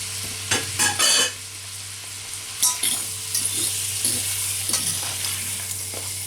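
Six tablespoons of butter sizzle and melt in a pan for shrimp scampi, a steady hiss under a low hum, with a few sharp utensil knocks and scrapes close by and no voices.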